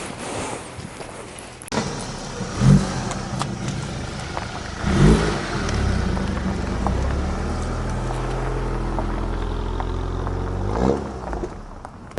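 A 2014 Audi A4 B8.5 with a 2.0T engine and six-speed manual transmission, revving and accelerating through the gears with rising engine tones between pauses, loud and close.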